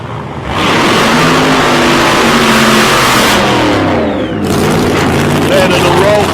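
A drag racing car at a raceway revs hard through a rolling burnout during qualifying, a loud, sustained engine roar that rises in pitch and surges again, with a commentator's voice faintly underneath.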